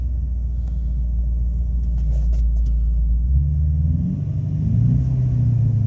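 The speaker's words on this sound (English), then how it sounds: "Man, that crank's way faster. Well, staying running this time." A 1999 Ford F250 with a 5.4 engine idles steadily after a fast crank and startup, a loud close low rumble that shifts pitch slightly midway and keeps running alone.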